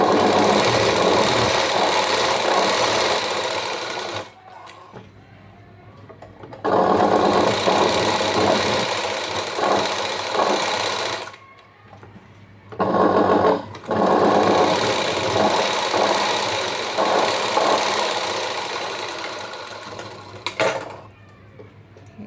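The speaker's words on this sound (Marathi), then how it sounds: "लेसला मी पूर्ण दुसऱ्या साईडने पण शिलाई" A sewing machine stitches lace onto a blouse in rapid mechanical bursts, several runs of a few seconds each separated by short pauses, close and clear.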